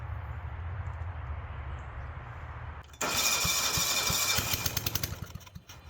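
A John Deere lawnmower engine that had been sitting and needed work, with its muffler off, catches after a quiet stretch and roars into a loud, steady run with ragged popping pulses near the end, close by.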